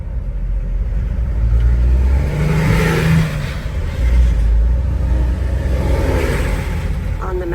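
Car engines rumble and rev nearby in slow traffic on a mountain freeway between Cartagena and Medellín, with swelling accelerations over a steady road drone and a voice talking over it.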